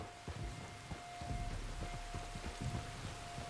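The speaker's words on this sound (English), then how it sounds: "You were right about the damn rain." Steady rain in Red Dead Redemption 2 patters down, with scattered droplets tapping nearby under a soft, constant hiss at low volume.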